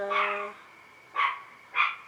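A puppy gives three high, sharp yips, the first longer and the next two short, close by and clear against quiet.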